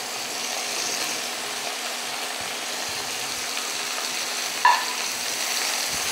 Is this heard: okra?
yes